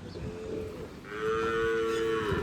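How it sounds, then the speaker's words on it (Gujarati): A single drawn-out Gir cow moo rises and holds for over a second, close and clear against a quiet background. "ગાયો આપણે અહીંયા આવ્યા છીએ અને આપણને જોઈને જો ભાંભરે"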